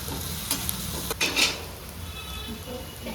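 Chopped onion frying in a pan until pink, a steady sizzle with a few clinks of a utensil against the pan and a brief stirring scrape partway through, no talking.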